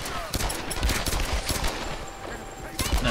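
Rapid gunfire from a Tomb Raider video game, a dense burst of sharp shots in quick succession, with a person talking over the action.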